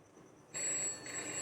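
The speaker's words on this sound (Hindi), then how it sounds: "टेलीफोन की घंटी बजने लगी।" A telephone bell rings loudly and steadily, starting abruptly partway through and continuing without pause, alone with no voices.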